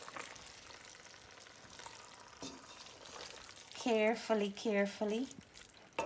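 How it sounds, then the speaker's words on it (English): Eggs and spices being stirred gently in a pan on a medium-low stove, a soft sizzle and scraping under a person speaking throughout. "So we're going to give it a nice mix carefully."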